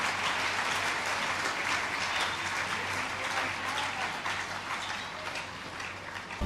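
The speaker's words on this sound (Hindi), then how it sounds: "आइए जरा तालियां बजाते रहिएगा।" Sustained audience applause at a Jain religious ceremony in Ashoknagar announcing a new executive committee, a dense steady wash of many hands clapping that tapers slightly toward the end.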